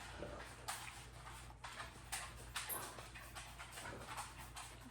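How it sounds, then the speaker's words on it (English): Soft, irregular clicking of dog nails tapping across a hard floor, faint and steady against a low background hum. "my dogs are walking around the table with their nails making noise on the floor"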